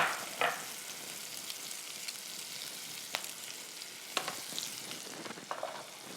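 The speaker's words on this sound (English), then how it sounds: "first thing you add is your onion. And we're going to let that onion cook until it softens." Onion softening in a pan as the base for a red wine sauce, a quiet continuous frying hiss with occasional sharp scrapes and clicks of a spatula.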